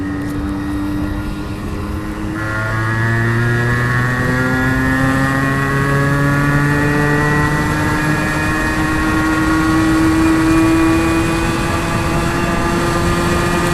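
A Yamaha RX100 two-stroke motorcycle engine pulls steadily in third gear, its loud, continuous drone rising slowly in pitch as the bike gathers speed over the whole stretch, with no talk.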